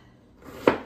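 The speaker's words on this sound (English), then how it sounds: "I'm going to talk while I'm chopping." A knife chops food on a cutting board while salmon patties are being prepared, giving a single sharp, fairly close chop after a quiet stretch of low kitchen background.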